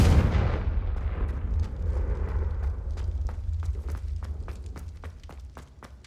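A Confringo fire-blast spell cast in Hogwarts Legacy erupts in a loud opening blast, then trails into a low rumbling roar dotted with sharp crackling pops that slowly fade.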